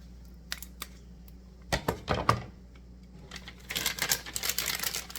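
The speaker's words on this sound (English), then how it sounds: "I'm going to cut it off." A plastic tip is snipped off in a kitchen while deviled eggs are being made. A few close, sharp clicks and cuts come in quick succession, followed by soft plastic rustling and crinkling, with no speech.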